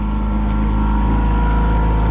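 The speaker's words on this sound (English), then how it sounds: "This engine has not missed a beat, baby." An outboard engine on a fishing boat runs at speed, giving a loud, close, steady drone with a constant pitch and no break.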